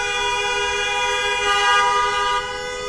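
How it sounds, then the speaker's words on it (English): Car horns blare in Brooklyn street traffic near a light, a sustained loud, tonal honking that holds for a few seconds and then drops slightly at the end, with no talking. "All that honking, they still missed the light."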